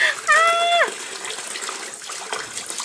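A tap is left running while a pet plays and swims in the water. A steady rush of running water continues under a short high tonal sound and nearby voices talking.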